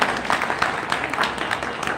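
At a poetry competition held by a public library, the audience claps in steady, moderately loud applause.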